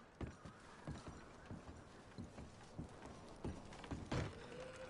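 Video game horses clip-clop at a walk: soft, irregular hoof thuds at moderate distance, fairly quiet, with faint mechanical creaks and no voices.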